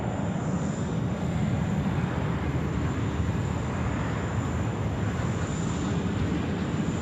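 A jet takes off at Sydney Airport, producing a continuous, loud, broadband engine roar that holds steady throughout, with no voices heard.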